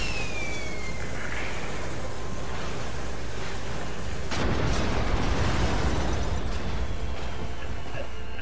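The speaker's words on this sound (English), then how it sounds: "A giant firework!" A giant firework bursts in a video game, a sudden broad blast that swells from the middle of the clip and rumbles on over steady game noise and a faint whistling tone.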